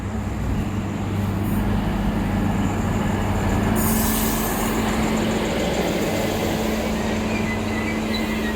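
Train pulling into Lochinvar station in the Hunter Valley on a Scone service, a steady loud rumble of railcar and wheels with a sustained low hum and a brief squeal partway through, no voices.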